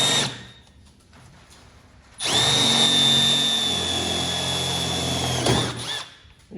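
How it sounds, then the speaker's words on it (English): A power drill on hammer setting starts after a quiet moment and runs steadily at high speed for about three seconds, loud and close, drilling a hole to mount a vise in a tool box, then winds down abruptly. "And I can drill my hole"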